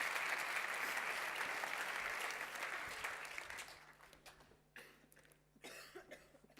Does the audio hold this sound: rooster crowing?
no